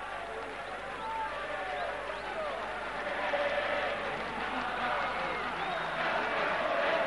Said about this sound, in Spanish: Bianchi le dice a la hinchada de Vélez que grite, ¿no?